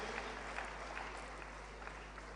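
An audience at the Pravasi Gujarati Parv 2022 conclave gives a steady wash of applause after a stage session. It sounds faint and distant, with an even, sustained texture and no clear individual claps standing out.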